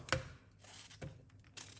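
Knife cutting cucumber on a board, a few sharp separate chops with quiet gaps between them, close and fairly faint.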